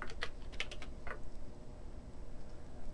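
Text typed on a computer keyboard, a short quick burst of several crisp key clicks near the start, then quieter background.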